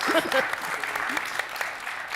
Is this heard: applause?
yes